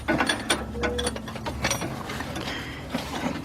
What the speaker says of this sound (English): I can use my line wrench to tighten it up all the way